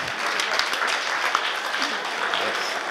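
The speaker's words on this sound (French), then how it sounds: "J'aimerais une bonne main d'applaudissements." A crowd at a church session claps loudly and continuously, a thick dense wash of applause, with a voice and cheering mixed in.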